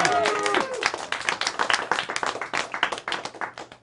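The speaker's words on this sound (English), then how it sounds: "Clap, clap, clap." A small crowd claps together throughout, steady and fairly close, with no talk over it.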